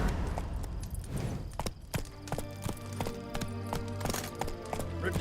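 Hooves of Roach, Geralt's horse in The Witcher 3, clip-clop in a quick galloping rhythm, close and steady over a low ambient bed with scattered other game sounds.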